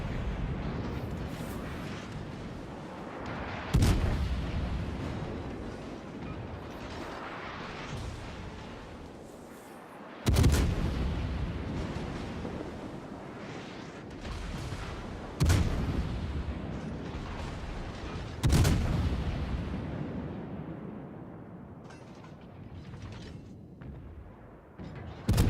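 Naval gunfire from the Kutuzov cruiser in World of Warships, four heavy booming salvos spaced several seconds apart, each with a sharp crack and a long rumbling decay over steady engine and sea ambience.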